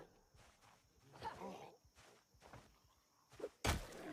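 Footsteps of someone walking up, a handful of soft, irregular thuds at close range, ending in a louder knock or thump near the end, with faint talking in the background.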